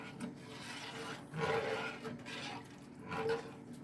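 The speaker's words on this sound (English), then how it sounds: "but I've got to scrape the bottom of the pan" A utensil rasps and scrapes repeatedly across the bottom of a pan of thickening gravy, in slow back-and-forth strokes, close and fairly quiet.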